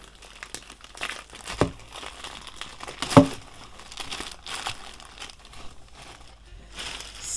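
A plastic mailing bag from a delivered parcel holding an iPhone 11 crinkles and rustles up close as it is handled, with irregular crackling bursts and one sharp louder crunch.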